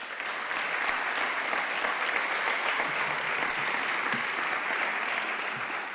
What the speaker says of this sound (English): Please join me in welcoming and thanking George for his commitment to our workforce.